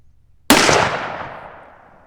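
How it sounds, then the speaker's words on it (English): A single sharp gunshot from an 1892 lever-action rifle cracks loudly and close, then its echo rings and fades over about a second and a half. "1892. I love this gun."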